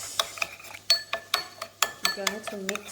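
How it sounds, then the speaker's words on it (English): A metal utensil scrapes and clinks against a bowl while fish spice and other ingredients are mixed, giving irregular sharp taps and rattles close up, with a person talking briefly. "I'm just like mixing everything"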